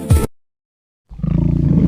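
A tiger roar sound effect, loud and close, a rumbling pulsing growl rising after a brief word and a pause of silence.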